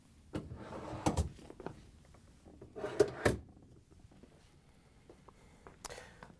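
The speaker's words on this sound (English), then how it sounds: "we can pull the upper rails out so we can put the upper basket in" Metal rails of a dishwasher's upper rack slide out in a few short rattling pulls with clicks and clunks between, close and moderately loud, followed by quieter handling noises.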